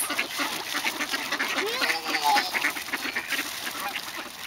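A flock of ducks quacking and honking loudly and close at a pond while people are fed bread nearby, the calls overlapping in a busy chorus with voices faintly underneath.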